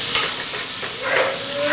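Garlic paste hits hot butter in a pan and sizzles steadily, a bright, close frying hiss with a sharp splutter at the start and light stirring scrapes.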